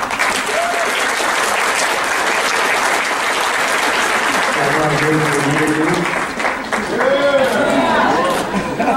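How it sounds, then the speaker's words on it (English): Loud applause from a tribal college graduation audience, sustained clapping throughout with scattered voices and chatter mixed in. "give her all a round of applause here"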